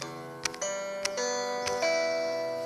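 Intro chords played on an Android device, a short sequence of ringing plucked notes with sharp clicky tap transients between them, fairly quiet and close, with no talk.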